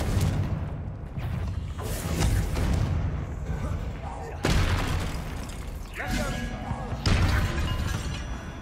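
Fiery spell blasts in the Hogwarts Legacy video game, on PlayStation 5, sound as several loud booming bursts with crackling debris, layered over the game's music and effects and mixed with a speaking voice.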